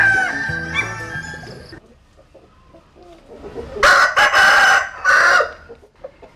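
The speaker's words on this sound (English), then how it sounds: "sipping it while listening to the roosters crowing" Several roosters crowing in a village at morning, loud bursts of crowing close by in quick succession after a quieter stretch, with other clucking fowl sounds earlier.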